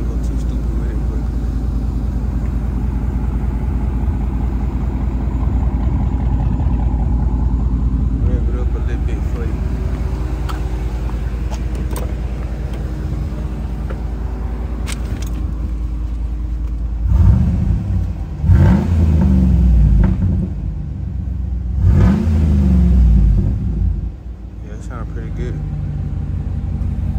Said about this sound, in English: And y'all can hear the idle on the truck. Not too loud, not too quiet though.